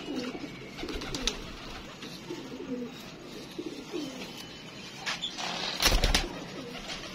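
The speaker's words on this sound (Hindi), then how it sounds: "ये दोस्तों ये कबूतर मुझे बहुत पसंद था यार।" Pigeons, kept domestic flying birds, coo in low repeated phrases through the first half, then a brief burst of wing flapping sounds close by near the end over faint background noise.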